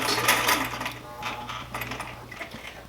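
Close sewing machine stitching a dart on a sloper garment, with a brief back stitch and then a steady run, its clicking needle action coming through in small uneven bursts.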